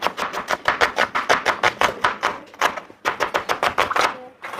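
A sharp knife chops a large onion on a board in a home kitchen, making rapid, evenly spaced close-up knocks in quick bursts with brief pauses.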